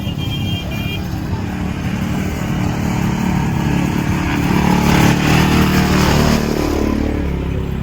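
Motorbikes riding on snow at Rohtang Pass in Himachal Pradesh, with loud, steady engines droning and revving close by and voices talking over them.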